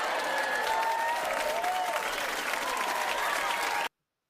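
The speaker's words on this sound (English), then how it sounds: "We got to give them a big round of applause." Warm applause from a crowd at a bar event, steady clapping with a few scattered cheers and voices, then an abrupt cut to silence near the end.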